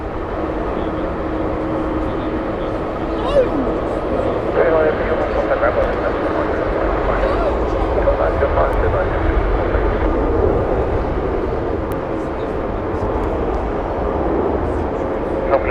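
An Air India airliner arrives at Heathrow with a steady engine rumble and whine running throughout, while someone talks over it.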